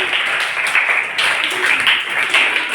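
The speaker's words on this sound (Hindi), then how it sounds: "अपने लिए तालियां बजाएंगे सभी बच्चे" Schoolchildren in a Pune municipal school classroom clap for themselves after a reading session: a dense, steady patter of many small hands throughout, with no voices over it.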